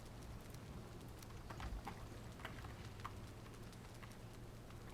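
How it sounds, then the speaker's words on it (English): Steady rain in the Valheim video game, a faint, continuous hiss with scattered light patters, no voices. "It is raining, so I'm a little spooked."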